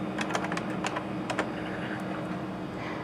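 Password keys tapped on a computer keyboard at a Safeway PLUM scale station, a short cluster of crisp clicks early on, then sparser taps over a steady background hum.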